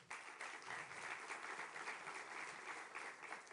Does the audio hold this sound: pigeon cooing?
no